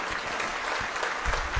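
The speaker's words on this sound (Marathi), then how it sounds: "विभूते करता एकदा जोरात टाळ्या सर्वांनी वाजवा." A rally crowd in Kolhapur claps loudly and steadily, a dense close burst of applause with no voices over it.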